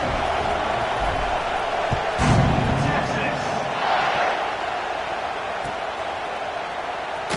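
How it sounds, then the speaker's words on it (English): A football stadium crowd in a college football video game keeps up a steady, loud buzzing roar throughout, with brief swells and a commentator's voice over it. "this crowd is buzzing after that last score"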